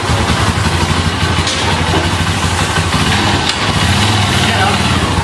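Motorcycle engine idling steadily with the choke raised, loud and close, a continuous even rumble, with a person's voice faintly under it.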